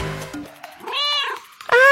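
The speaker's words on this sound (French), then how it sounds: "Ah, c'est le chat." A pet cat meows twice, the first call rising and falling, the second sharper and louder, with a brief voice or noise at the start in an indoor setting.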